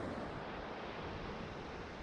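Ocean surf washes steadily onto a rocky beach on the Washington coast, a continuous broadband roar with no distinct breaks and some wind buffeting the microphone.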